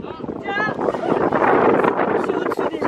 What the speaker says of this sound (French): Je sais même pas si vous entendez avec le vent.